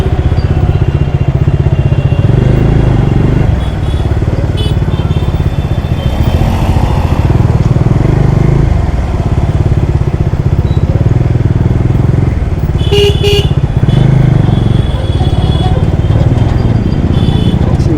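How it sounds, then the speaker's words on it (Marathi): A steady, loud motorcycle engine drones throughout with traffic rumble around it, constant and close, with occasional faint clatter. "गाडीचा पण आवाज येत असेल"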